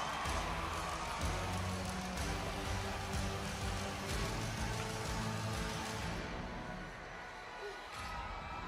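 Wrestling arena crowd cheering during a WWE Raw broadcast: a broad, steady roar of many voices that swells and then dips slightly near the end.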